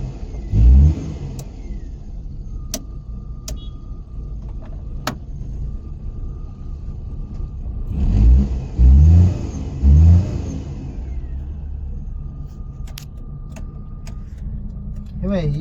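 A Maruti Omni van engine revs in a workshop during servicing: a short rev burst near the start, then three strong revs in a row later on, over a steady idle, with people talking nearby.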